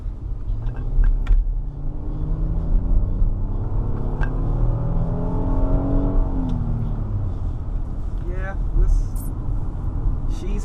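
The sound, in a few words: 2019 Kia Sorento 3.3 liter accelerating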